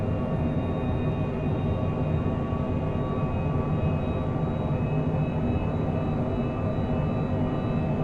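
A Cessna Citation Longitude business jet in Microsoft Flight Simulator 2024 hums with a steady, even engine drone and airflow roar during a flight from Amsterdam Schiphol to Geneva, continuous and unbroken with no voices.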